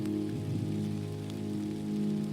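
Steady, dense rain pattering on a surface, a continuous even wash with a low hum underneath and no voices.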